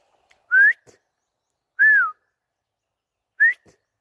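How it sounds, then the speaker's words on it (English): A person whistles three separate rising and falling calls for a dog, each clear and loud, with pauses of silence between them. "excuse me while I whistle the dog."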